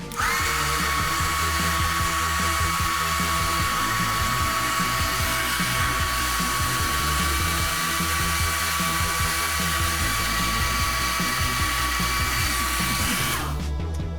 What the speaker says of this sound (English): that's pretty much what I do with the hairdryer and the brush